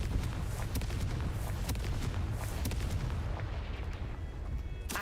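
A Confringo fire spell explodes in the Hogwarts Legacy video game, heard as a dense, loud roar with repeated sharp booming bursts throughout.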